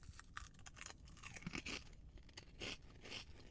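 Close, quiet crunching and chewing of potato chips from a chip mix with pepper, smoky sweet barbecue and sweet-and-spicy jalapeno flavours, made up of a quick run of crisp bites.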